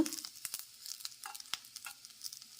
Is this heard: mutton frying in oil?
yes